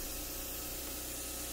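A 3M Accuspray gun sprays chalk paint onto furniture, a continuous steady hiss of air and paint mist throughout, close and even with no pauses.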